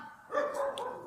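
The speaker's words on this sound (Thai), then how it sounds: "ต้องขออภัยจริงครับที่มีเสียงหมาครับ อันนี้" A dog barks in a short burst of loud, close yaps and woofs lasting about a second, with no talk over it.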